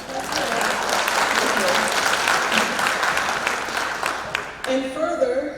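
A room of parents at a school meeting breaks into applause, a dense sustained clatter of clapping that cuts off near the end as a voice starts talking.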